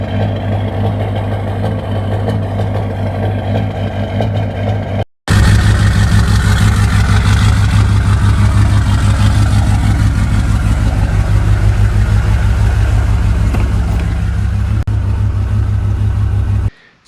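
An LB7 Duramax diesel truck engine growls through a struggling cold start in winter, a deep, loud, steady rumbling idle heard close up, broken by a brief silent cut before the rough drone resumes.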